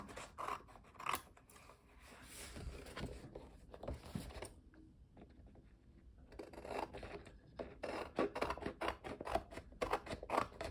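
Scissors cutting the paper edges of a collage, a steady run of quick close snips and rustles, fairly quiet, pausing briefly midway before resuming.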